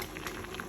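Vegetables boiling in a pot with water, including eggplant, beans, okra, capsicum and potato, a steady close bubbling and popping texture throughout the brief moment.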